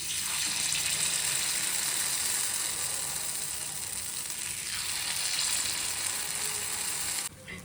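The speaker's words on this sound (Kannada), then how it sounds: "ಪಡ್ಡು ಬ್ಯಾಟರ್ನ ಹಾಕ್ಕೊಳ್ಳೋಣ." Paddu batter sizzles on a hot pan in a steady, bright, hissing fry that runs almost unbroken, then drops off abruptly near the end.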